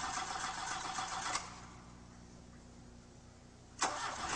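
A car engine cranks during an electronic ignition system test, with loud, rough cranking at the start, a quieter steady whir in the middle, then another sharp burst of cranking near the end.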